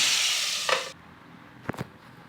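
Tomatoes fry in a pan for tomato chutney with a loud, steady sizzle that cuts off abruptly, followed by a couple of brief scraping stirs against the pan.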